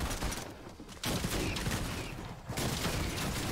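Rapid gunfire in a Fortnite match, loud, dense bursts of shots in two or three waves with brief lulls between them, close and mostly unaccompanied by talk.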